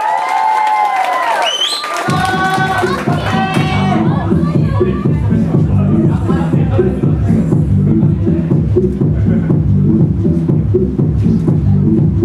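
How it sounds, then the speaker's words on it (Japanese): An audience at a pop music showcase erupts with whistles and whoops, then settles into a loud, dense stretch of rhythmic clapping and crowd noise that carries on to the end. "愛すべきアホどもの拍手。"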